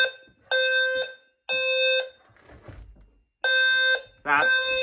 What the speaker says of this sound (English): Second floor main sounder is good.